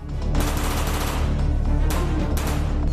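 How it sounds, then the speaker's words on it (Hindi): A rapid burst of gunfire crackles in a daylight gang shooting over a dense, rumbling background, with a few sharper shots standing out near the middle and end. "दिन दहाड़े चली गोलियां"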